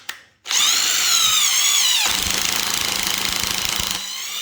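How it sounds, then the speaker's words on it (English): Power drill driving screws into wood while building a sofa-height table, a brief click then a loud steady whine that drops in pitch as the screw bites, running for about three and a half seconds. "I'm just going to go ahead and drill those in there"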